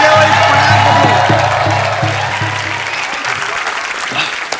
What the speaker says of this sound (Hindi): सो एक बार जोरदार तालियां हो जाएं handsome and versatile actor Jimmy Shergill के लिए।